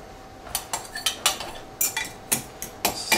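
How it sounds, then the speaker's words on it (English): A utensil stirs couscous soaked in stock with butter, giving about a dozen sharp, irregular clinks against the bowl, fairly close and alone. "Just give it a little stir"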